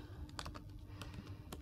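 Quick, quiet keystrokes on a computer keyboard at a tech conference, irregular light clicks heard close and soft against faint room noise.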